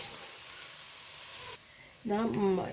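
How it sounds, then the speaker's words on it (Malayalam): Ginger, garlic and green chillies sauté in a pan for a chicken roast, giving a steady close sizzle that drops away suddenly halfway through; a voice then speaks over the quieter hiss. "നല്ലോണം ഒന്ന് വഴറ്റുക കേട്ടോ."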